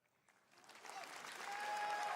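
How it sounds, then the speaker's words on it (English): An audience claps and applauds at a game announcement, the sound swelling from a faint start into steady, dense applause that holds strong to the end. "Stop clapping."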